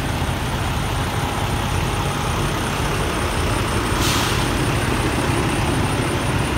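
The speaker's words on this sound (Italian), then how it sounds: "probabilmente l'audio non sarà al massimo perché ovviamente tutti i motori accesi" Several truck engines idle together in a truck parking lot, a steady, loud, unbroken diesel rumble with a faint high whine running over it and no talk.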